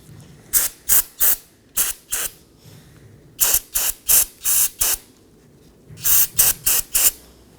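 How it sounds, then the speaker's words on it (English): Brake cleaner sprays onto a parking brake adjuster from a 2015-2023 Nissan Maxima in loud, close, short hissing bursts that come in quick clusters of three or four with brief pauses between them. "And hit it with some brake cleaner."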